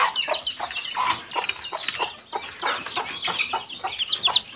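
A hen settling into her nest clucks in a steady run of close, soft murmuring calls, with a sharper squawk near the end and no talking.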